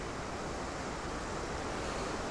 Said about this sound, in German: Und da unten ist der super Wasserfall.